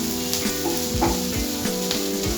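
Kachori filling spiced with garam masala cooks on a slow-medium flame with a constant close sizzle. Stirring scrapes and soft clinks run through it, and there is no speech.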